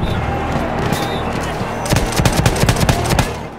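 Battlefield 1 battle gunfire, with a dense rumble of distant shooting giving way to bursts of rapid machine-gun fire, loud and close, in a chaotic combat soundscape.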